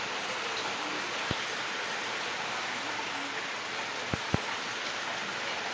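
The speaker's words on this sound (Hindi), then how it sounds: "फाइनली आ गई है बहुत तेज़ वाली बारिश, बहुत इंतज़ार के बाद लेकिन अभी इतनी तेज़ नहीं है" Heavy monsoon rain pours down in a steady, close hiss, with a few sharp drip or tap sounds cutting through now and then.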